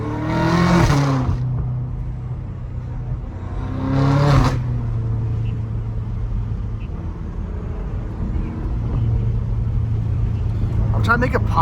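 BMW M5 Competition with a cat-less exhaust, revving hard in two loud bursts, then settling into a steady droning rumble, with a brief sharp flurry near the end.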